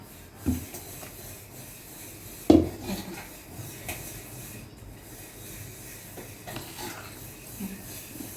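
A metal slotted spoon stirring freshly churned butter in a pot, with scattered clinks and scrapes against the metal, a couple of sharper knocks, and someone talking over the soft background hiss.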